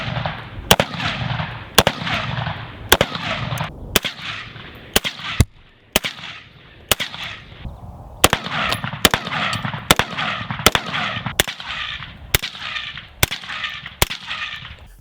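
A rifle fitted with a Sylvan Arms SA30Ti titanium suppressor fires a long series of sharp, evenly spaced shots at close range, roughly one per second, each a crisp crack with a short tail.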